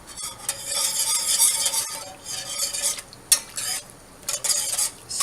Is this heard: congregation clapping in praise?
no